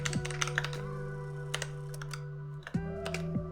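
Python code being typed on a computer keyboard: a close run of crisp key clicks in an irregular rhythm, with a few louder strokes and no voices.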